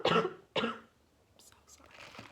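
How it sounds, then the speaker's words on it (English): Two harsh coughs come in quick succession, close to the listener, followed by a few quiet breathy sounds and faint murmuring. "I've had this cough since January and it just won't go away."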